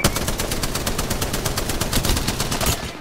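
Fast, loud automatic gunfire in a battle royale video game, a steady rattle of shots through the whole stretch with no talking over it.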